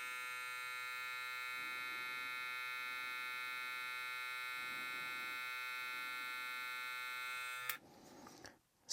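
A Kemei KM-90-4 hair clipper runs with a steady high-pitched electric buzz and hum, constant and close, cutting off abruptly near the end before a brief rustle.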